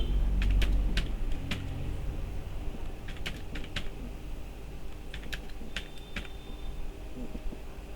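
Typing on a computer keyboard, with scattered clusters of crisp key presses in short bursts and pauses, close and fairly quiet over a low room hum.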